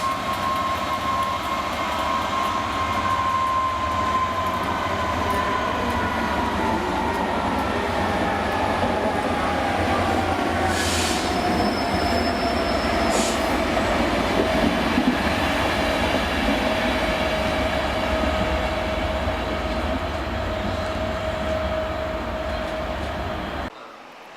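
An Arriva Trains Wales train to Holyhead rumbles steadily and loudly through a station for the whole stretch, wheels clattering on the rails as it rolls through, with a faint whine above.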